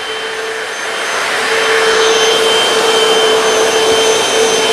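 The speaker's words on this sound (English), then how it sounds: "A couple of quick passes and the Hoover took that off." Hoover PowerDash hard floor cleaner running on a dirty kitchen floor, a loud, steady motor whine with a constant tone and whooshing airflow, rising slightly and then holding level, no voices.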